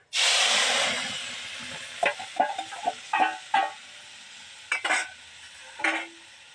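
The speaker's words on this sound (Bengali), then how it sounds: "আগে থাকতে শিলনোড়ায় আমি পালং শাক, রসুন আর লঙ্কা বেটে নিয়েছি, এইটা আমি এই তেলের মধ্যে ছেড়ে দিলাম।" A ground paste of spinach, garlic and chili drops into hot oil with a loud burst of sizzling that slowly settles, while sharp stirring scrapes and knocks sound close by in a village kitchen.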